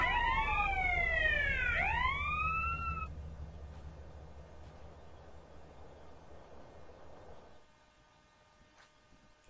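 A wailing police siren in Grand Theft Auto: San Andreas sweeps up and down over a low engine rumble for a few seconds, then stops, leaving the rumble fading away.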